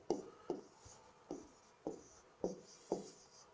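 Pen or chalk strokes as formulas are written out by hand for a complex numbers lesson: six short scratchy taps at an irregular, unhurried pace, close and quiet, with no talking.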